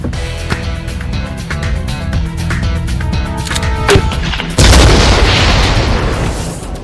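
A bazooka rocket fired at a tank at close range, with a dense, loud barrage of booms and blasts that swells into a big explosion near the end.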